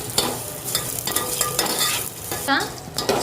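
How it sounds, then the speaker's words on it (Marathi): Garlic fries in hot oil for a tempering, a loud steady sizzle broken by stirring scrapes from a spoon in the pan, close and without talking. "हा लसूण पण ह्याच्यामध्येच मी लाल आणि कडक करून घेणार आहे"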